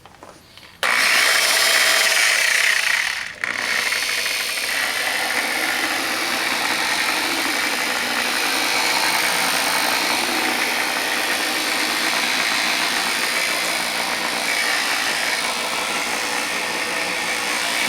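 A power polisher starts with a sudden whir after a quiet moment, dips briefly, then runs steadily at close range with a loud, continuous motor whine while polishing car tail lights.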